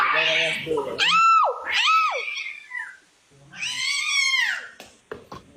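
A cat meows loudly several times up close, drawn-out wavering cries with short pauses between them, ending in a few faint clicks.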